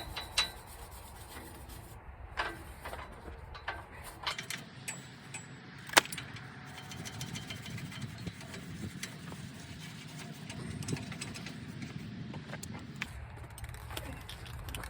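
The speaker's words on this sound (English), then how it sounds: "I just mainly want to get all the dirt and any of the surface rust I can off with the wire brush" A wire brush scrubs dirt and surface rust off a John Deere 458 mower knife, giving steady close rasping strokes with occasional sharper metallic clinks.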